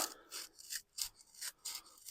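Sandpaper rasps against the inside of a roller as it is turned by hand, a series of four or five close, dry scraping strokes separated by brief pauses.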